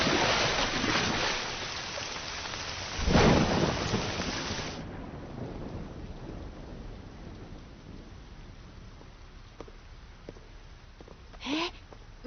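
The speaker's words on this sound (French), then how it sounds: "regardez, il y a une tempête dehors" Heavy rain pours down steadily with a loud rumble of thunder near the start and a fainter one late, the downpour easing slightly partway through.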